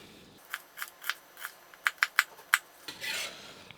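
A knife dices an onion on a cutting board with a quick series of crisp, close chopping taps, about a dozen in a loose rhythm, then a brief scraping sweep at the end. No one speaks.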